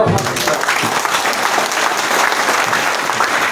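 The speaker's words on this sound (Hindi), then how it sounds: "खड़े होकर ताली बजा के" An audience at a political gathering rises and claps, a dense, sustained burst of applause close and loud throughout, with faint voices mixed in.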